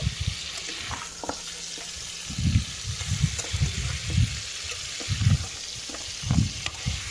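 Salted beef chunks for Peshawari beef are stirred in hot oil over a medium gas flame, giving a soft steady sizzle broken by repeated low scraping thumps of the spoon in the pan.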